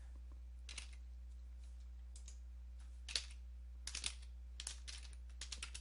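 Keystrokes on a computer keyboard while entering a command during a Windows 10/11 repair, a sparse run of faint, irregular clicks and short bursts over a steady low hum, with no talking.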